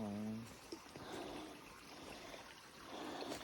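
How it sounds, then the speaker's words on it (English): Water source running near a mountain shelter on a hiking trail, a steady soft trickling stream heard close by, with a voice speaking briefly at the start. "there's definitely a decent water source here. It's running nice."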